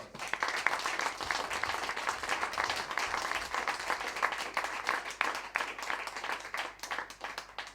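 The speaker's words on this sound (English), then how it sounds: "Please give it applause." A crowd at a talk on alternative media and the left gives a round of applause, heard faint and somewhat distant as a sustained patter of many hands with uneven peaks and no voices.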